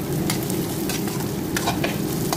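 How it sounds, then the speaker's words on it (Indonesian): Onions and spring onions fry and get stirred in a little oil in a home kitchen pan for an Indonesian bamboo-shoot dish, a steady close sizzle with brief scraping clatters of the spatula. "Gorengnya bawang bombay ya"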